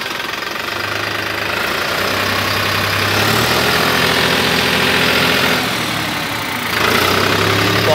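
A 2019 New Holland 6510 4x4 tractor with a 65 hp engine idles loudly and close by, with a steady low diesel rumble and knocking that rises slightly in the middle and again near the end.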